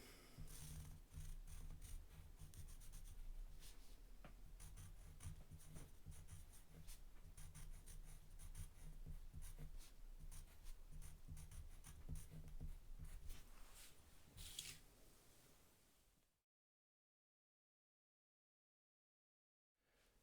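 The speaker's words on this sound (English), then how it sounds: "I'm going to draw a line up there." A pencil scratching lines on paper, a faint, steady scraping that runs for about sixteen seconds before stopping.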